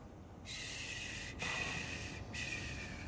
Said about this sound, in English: Slow your breathing, Blazkowicz.